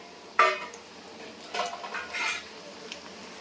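Chicken keema with capsicum sautéing in a pan on low flame, heard as a few scraping and clinking strokes of a utensil against the pan, one sharper knock early on, over a quiet background without talk.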